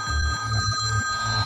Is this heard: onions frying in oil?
no